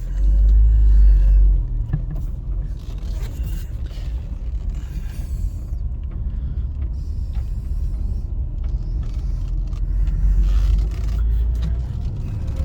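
A used car drives along the road in a steady interior ride, with a continuous low engine and road rumble, a heavier surge at the start and again near the end, and faint creaks and clicks inside the cabin.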